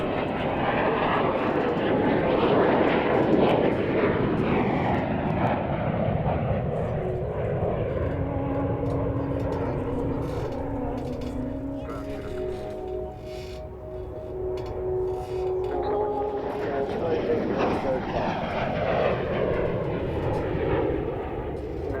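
An Avro Vulcan delta-wing jet bomber passes at the Waddington airshow with its undercarriage down, a loud, roaring jet rumble that swells, eases off as it goes by and then builds again, with faint voices beneath it.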